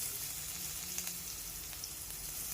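Grated ginger and garlic dropped into hot oil for tempering, a steady, fairly soft sizzle hissing continuously with a couple of faint ticks.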